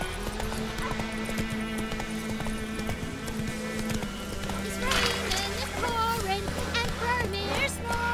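Horse hooves galloping in The Witcher 3: Wild Hunt video game, a rapid continuous clip-clop close by, blended with game music and ambience, with voices speaking over parts of it.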